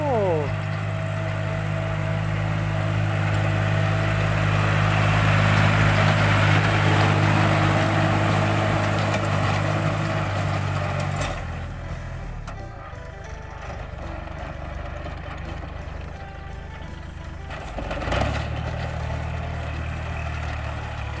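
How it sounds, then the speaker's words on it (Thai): A tractor engine runs in a rice paddy, driven by a woman, with a steady low chugging drone up close that drops off and quiets about halfway through, under some talking. "มาดูครับพี่น้องผู้หญิงขับรถไถครับ"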